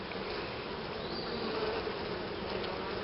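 Honeybees swarm around an open hive during an inspection, making a continuous, close, steady droning buzz with no pauses.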